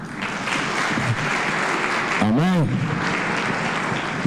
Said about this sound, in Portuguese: Essas palmas estão muito fraquinhas.